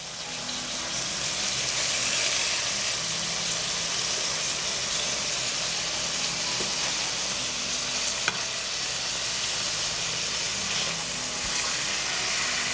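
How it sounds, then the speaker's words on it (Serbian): Chicken fillet frying in a hot pan gives off a loud, steady sizzle that holds evenly through the whole stretch, with no voices. "Pržim pileći file sa obe strane po 5 minuta."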